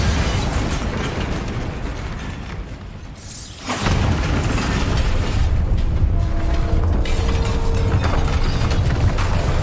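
A Bombarda blasting spell from the Hogwarts Legacy video game goes off as a deep, loud boom at about four seconds. A broad rumbling roar follows and holds steady to the end, with game sounds underneath.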